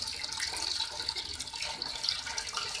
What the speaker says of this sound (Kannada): ನೀರು ಬಂದು ಬೀಳುತ್ತೆ ಬಿಸಿ ನೀರು